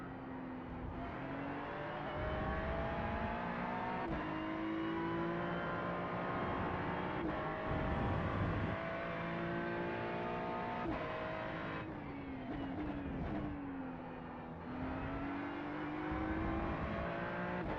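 GT3 race cars in a racing video game roar continuously, engine pitch rising and falling through gear changes and acceleration, loud and steady throughout with no talk over it.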